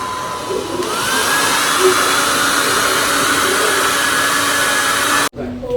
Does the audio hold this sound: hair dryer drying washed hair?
yes